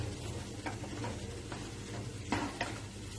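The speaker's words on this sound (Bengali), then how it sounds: "আবার সবকিছু ভালো করে মিক্স করে দেবো" Papaya being stirred with salt and turmeric in a frying pan, a soft steady sizzle under scraping spoon strokes, with a few sharper clinks of utensil against the pan.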